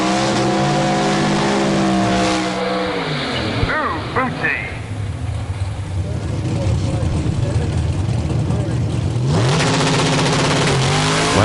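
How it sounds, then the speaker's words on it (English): A drag racing car at Bug Jam roars down the strip with heavy engine noise, a sharp nitrous burp breaking through around the middle before the revving climbs back up loud and close. "big nitrous burp on the other lane"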